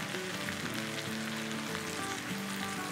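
Chicken pulao ingredients sizzle and fry in hot oil in a pan, a dense continuous crackle with faint stirring, close and steady.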